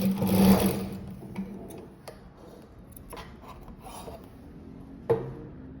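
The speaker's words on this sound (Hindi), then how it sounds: "उससे पहले हम इसको फोल्ड करके यहाँ पे एक बार और स्टिच लगा देंगे ताकि ये यहाँ से फोल्ड हो जाए।" A sewing machine runs a quick burst of stitching on blouse fabric, loud at the start, then sparse handling clicks and rustles with one sharp tap near the end.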